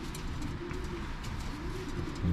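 Homing pigeons in a loft, soft repeated low cooing from several birds close by over a quiet background hum, with faint chirps mixed in and no speech.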